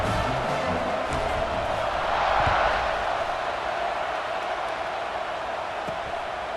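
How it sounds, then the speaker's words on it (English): Stadium crowd roar in EA Sports College Football 26 during a kickoff, a broad, steady wash of cheering that swells briefly midway and then holds at a constant distant level. "this crowd is feeling themselves after that last drive."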